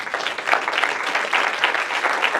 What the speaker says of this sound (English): I would like everybody to please give Savannah Parvu a big round of applause